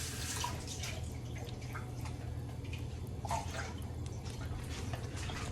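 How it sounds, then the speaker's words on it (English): A small amount of water sloshes and trickles around inside an emptied can of Cento crushed tomatoes as it is rinsed out, faint and close, with soft drips over a low background hum. "there's just a tiny bit of water just to rinse out the rest of that tomato goodness"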